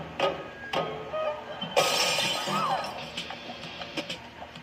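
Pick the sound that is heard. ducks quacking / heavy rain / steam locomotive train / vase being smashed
vase being smashed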